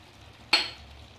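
Spices hit a hot pan of potatoes and bathua with one sharp, close sizzle that flares suddenly and then fades into a low frying hiss.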